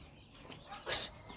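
A single soft hen cluck rises briefly out of quiet farmyard background, faint and fairly close.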